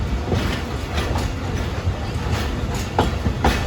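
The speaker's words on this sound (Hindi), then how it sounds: "बिल्कुल अंधेरे अंधेरे में आ रही है ट्रेन" A Pakistani express train rumbles into Bhilandi railway station in the dark, a steady loud roll of wheels with rhythmic clicks over rail joints and occasional sharper knocks.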